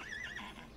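A horse in Albion Online gives one short, high neigh that wavers and fades within a second, faint and alone.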